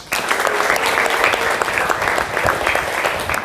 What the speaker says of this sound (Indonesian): Sekali lagi beri semangat dengan tepuk tangan yang luar biasa.